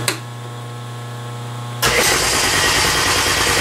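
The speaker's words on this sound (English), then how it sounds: "Just as the air compressor turns on." An air compressor in a machine shop kicks on abruptly partway through, its steady loud motor drone replacing a quieter low hum and continuing to the end.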